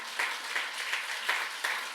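Church congregation clapping during a sermon, a steady wash of moderate applause with soft periodic swells, no voices over it.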